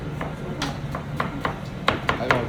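Knife cutting and slitting a vegetable stem on a cutting board, a series of sharp taps and thuds at an uneven pace, close and moderately loud, with a few firmer strikes near the end.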